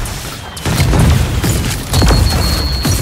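Heavy booms and bursts of gunfire ring out in a Super Mecha Champions mecha battle, loud and dense throughout, with a thud near the start and a sharp hit near the end.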